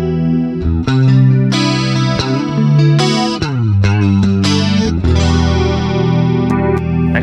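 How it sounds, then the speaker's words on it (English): An electric guitar with Fishman Fluence pickups in a split position plays a loud, clean, sparkly tone with a touch of chorus and no reverb or delay, strumming chords and picking single notes. "let me load up a sparkly, clean sound, a little bit of chorus, no reverb and delay"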